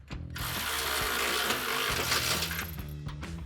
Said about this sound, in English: now we can install our flat washer and our locking nut. All right, you can use a shorter 19mm socket to get in there.